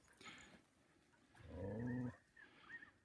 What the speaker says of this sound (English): We've got a nearly dog fight going on down there.